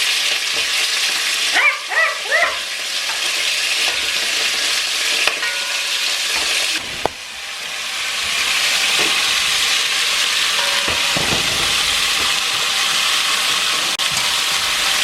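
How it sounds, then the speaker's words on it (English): Meat browns in oil in a Dutch pot, a loud, continuous sizzle close by with occasional clatters of stirring, while a dog barks a few times in the background early on. "So right now I'm just basically browning these on both sides."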